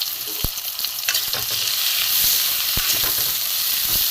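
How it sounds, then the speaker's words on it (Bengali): Eggplant pieces coated in salt and turmeric sizzle loudly in hot mustard oil, a constant crackling hiss with occasional sharp pops and spatters close by. "বেগুনগুলো নুন হলুদ মাখানো ছিল, বেগুনগুলো আমি ভেজে নেব।"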